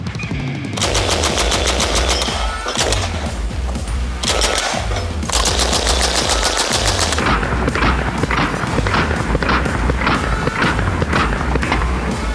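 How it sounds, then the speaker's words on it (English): M3A1 Grease Gun submachine gun firing several loud full-auto bursts of rapid, evenly spaced shots, with brief pauses between strings, close and unaccompanied by talk. "R45 is actually a submachine gun in the form of the M3 grease gun"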